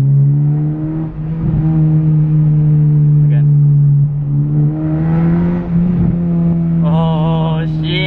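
A Honda Civic Si engine holds a steady high idle on launch control, droning loudly with slight rises in pitch and a few small pops, while someone talks over it.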